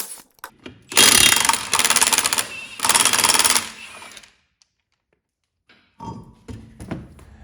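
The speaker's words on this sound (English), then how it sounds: "using your 19 millimeter, we're going to go ahead and remove the hubcap and then remove the steel lugs." A 19 mm socket on a power tool spins off steel wheel lug nuts on a Chevrolet HHR, three loud rattling bursts close together, then silence and a few softer clanks and thunks.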